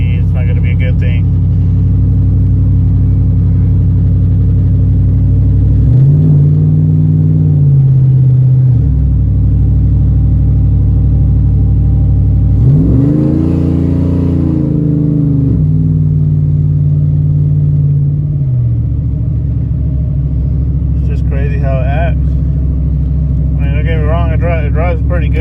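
A truck with a swapped 6L80 transmission being driven, its engine droning low and steady with several swells as it revs up and shifts, heard from inside the cab, with someone talking over it.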